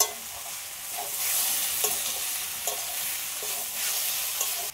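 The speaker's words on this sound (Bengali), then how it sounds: "ভেজে রাখা চিংড়ি মাছটা এর সাথে দিয়েই ভালো করে কষিয়ে নেবো একসাথে।" Prawns and young jackfruit stir-fry in a hot pan, a steady broad sizzle with scraping stirring strokes at intervals, close and fairly loud, no voices.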